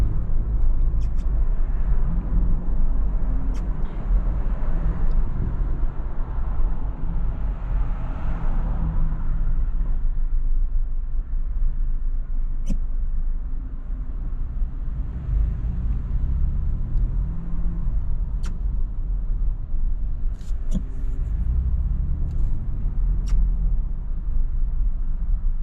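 A Ford Bronco 4-door with the roof off drives along a road in Canada, giving a continuous low cabin rumble of engine and road noise at a steady level, with faint occasional clicks.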